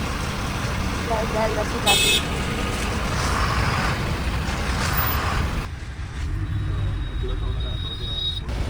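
Jammed road traffic near Prayagraj during the Mahakumbh pilgrimage: a constant loud rumble of idling and creeping vehicles, with a short car horn toot early on and voices talking over the noise.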